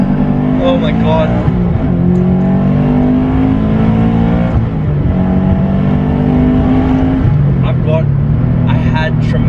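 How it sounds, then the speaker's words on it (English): A turbocharged Toyota 86 with an AVO Stage 3 turbo accelerates hard with wheel spin through first and second gear, its loud engine climbing in pitch, dropping briefly at each shift and climbing again, close throughout. "I had tremendous amounts of wheel spin through both gear 1 and 2"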